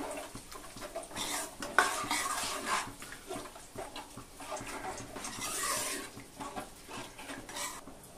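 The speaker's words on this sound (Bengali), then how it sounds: "এবার সেদ্ধ করা ডালটা আমি দিয়ে দেব। দিয়ে দেব অল্প পরিমাণ জল।" Boiled dal and a little water go into a pot and get stirred, giving soft scraping, clinking and sloshing sounds of irregular rhythm at close range. No one speaks.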